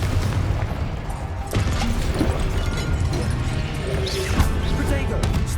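A Confringo spell explosion in the video game Hogwarts Legacy lands as a sharp crashing boom over a dense bed of combat noise, with a voice calling out.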